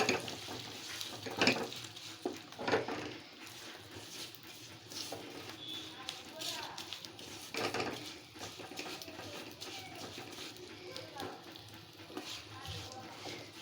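Sugar melting in hot oil in a pan while being stirred for a pickle, with a soft sizzle under repeated scraping and clinking stirring strokes, and a voice speaking faintly at times.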